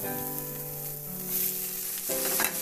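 Pork liempo and onion sizzle loudly and steadily in a hot pan, a dense continuous frying hiss with a brief stir-like shuffle near the end and no voices.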